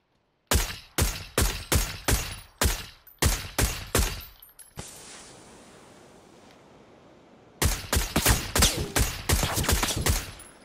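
Rapid bursts of gunfire from PlayerUnknown's Battlegrounds ring out loud and close: a run of sharp single shots, a pause with rustling noise, then another quick volley of shots.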